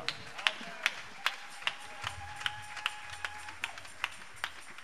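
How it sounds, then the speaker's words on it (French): A church congregation clapping in a steady, even rhythm, roughly two claps per second, moderately faint and slightly distant, with a low murmur of voices underneath. "On acclame pour la gloire de Dieu."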